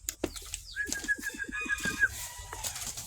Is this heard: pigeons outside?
yes